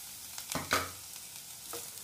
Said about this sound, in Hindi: गाजर सॉफ्ट हो गए हैं तो अब मैं इसमें शिमला मिर्च डाल दूंगी